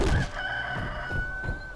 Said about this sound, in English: Moles that sound like roosters.